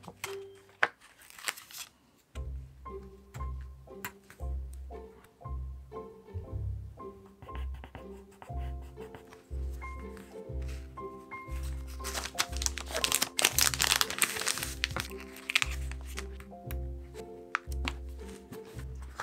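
Paper sticker being peeled, handled and pressed down, with close crinkling and crackling rustles in bursts over soft background music, no talking.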